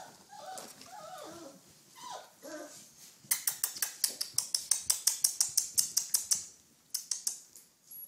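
Four-week-old red rust Doberman Pinscher puppies whimper and whine in soft, high cries at first, followed by a quick run of sharp clicking or creaking knocks close by.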